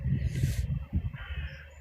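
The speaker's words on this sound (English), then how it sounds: "This is a crow actually at the moment" A crow caws outdoors, a few rough calls over low rumbling background noise, moderately loud and without talk.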